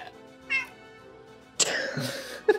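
A cat meows in the game Sunrider Academy: a short mew, then after a pause a louder, longer cry followed by a brief final call, close and clear.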